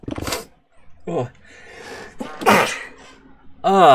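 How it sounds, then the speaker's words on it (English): A person sneezes loudly and close at hand, one sharp burst and then a second, with brief voiced gasps and mutters between them. "just sneeze in the middle of a video"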